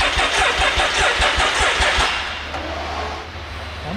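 Rapid, rhythmic cranking from a Can-Am X3 side-by-side turns over loudly up close for about two seconds. The engine then catches and settles into a lower, steadier running idle.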